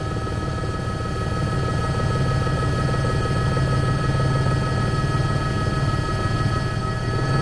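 A helicopter flying overhead at the Safari Rally makes a steady, droning rotor hum filling the whole stretch at constant loudness, a continuous mechanical roar without pauses or voices.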